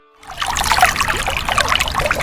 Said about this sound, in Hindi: परी माँ ने पानी में डुबकी लगाई